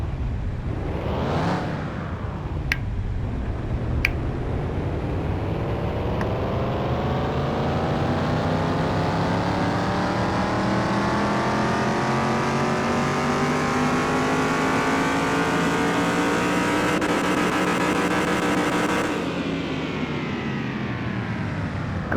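A 1970 Chevelle muscle car engine revs on a dyno test in a car mechanic game. It cranks up, then holds a long, loud, steadily climbing roar for about fifteen seconds before cutting off and settling into idle.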